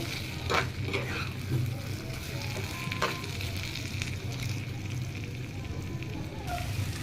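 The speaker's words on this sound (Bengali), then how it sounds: "এখন ভাজাভাজি করে নিই" A steady sizzle of food frying in mustard oil runs throughout, close and moderately loud, with occasional clicks and scrapes of stirring in the pan.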